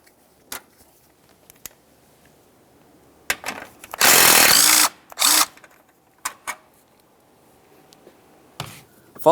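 A power drill or impact driver backs out two 8mm bolts holding the coolant reservoir of a 1998-2002 Lincoln Navigator, giving two close, loud bursts of whirring, the first longer than the second, between scattered quiet clicks of handling.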